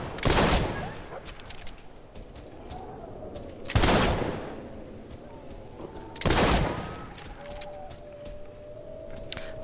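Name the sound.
gunfire in the video game Fable III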